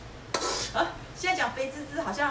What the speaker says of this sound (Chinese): 我们就可以把刚刚的这个蚵仔呢倒进来